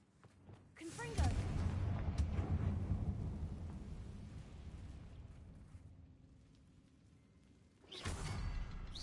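A fiery Confringo spell blast in Hogwarts Legacy erupts as a deep, rumbling boom with a whooshing rush, slowly decaying over several seconds before a second burst flares up at the end.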